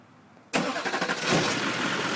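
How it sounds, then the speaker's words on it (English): An LLY Duramax diesel truck engine cranks and catches abruptly, then settles into a loud, close, rough running clatter with no one talking. "truck starts."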